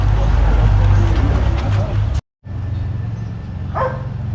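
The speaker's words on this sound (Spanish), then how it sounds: "Una manada de perros callejeros, impresionante." A pack of stray dogs barks on a town street, with repeated loud barks and yips over steady background noise, a brief dropout midway, and a voice talking.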